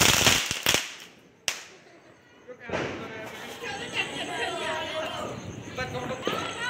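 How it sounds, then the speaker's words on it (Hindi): Diwali firecrackers set off outdoors give a cluster of loud cracks followed by one more sharp bang, then lively chatter and voices take over the rest of the scene. "अब जा रहे हैं पटाखे चलाने"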